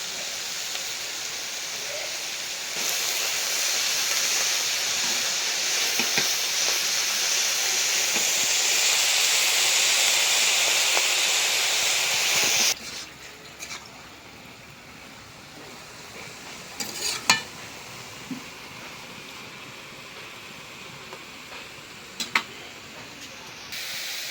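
Pui shak (Malabar spinach), salted, fries in a pan with a loud, steady hiss and sizzle that lasts about half the time, then settles into a softer sizzle broken by occasional utensil clinks.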